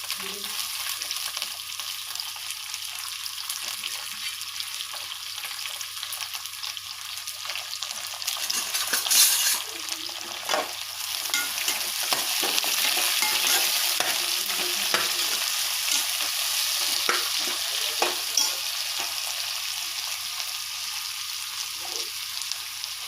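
Potato biryani ingredients such as green chillies, onions and curry leaves sizzle and fry in a pan while a spoon stirs and scrapes, a steady close crackle with occasional clinks.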